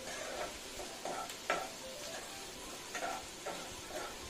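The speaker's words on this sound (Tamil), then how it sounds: "வெங்காயம் நல்லா வதங்கட்டும்." Onions sautéing in a pan give a soft, continuous sizzle, with a spatula stirring and scraping about every half second at a moderate distance. No one speaks.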